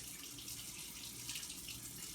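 Running water from a tap while hands are washed, a soft steady hiss with light splashing bursts, faint and continuous with no talking.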